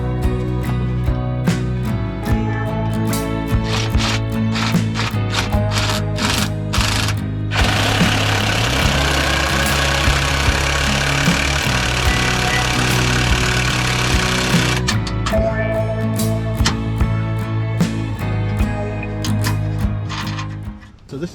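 A cordless drill driving a small winch to lift a Jeep cross member under a lifted Jeep: a loud, close motor whine with rattling bursts, one long steady stretch of running in the middle.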